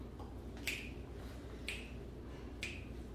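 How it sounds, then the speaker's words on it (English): Three crisp finger snaps, evenly spaced about a second apart, sound close and clear over a low steady background hum. "Snapping my fingers."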